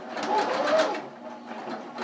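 A sewing machine runs a zigzag stitch around a circle of fabric, a steady, close mechanical whirring with a rapid rhythmic chatter that carries on throughout.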